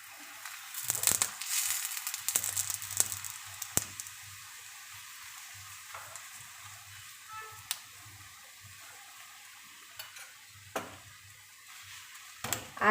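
Bottle gourd thepla roasting with oil on a pan, a quiet, intermittent sizzle with soft crackles and scattered clicks and scrapes, fairly faint and with no talk.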